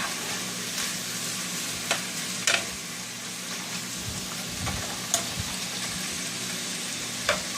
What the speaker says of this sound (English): this doesn't take very long to cook because it's raw thin meat